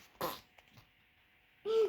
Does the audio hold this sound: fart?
yes